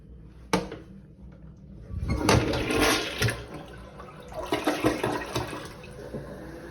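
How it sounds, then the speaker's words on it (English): A water-saving toilet in a La Quinta Inn hotel room near LAX flushes weakly: a sharp click of the handle, then a rushing, gurgling surge of water that swells and tapers over several seconds, with no voices. "Seems like kind of a weak flush, almost more of a water saver flush"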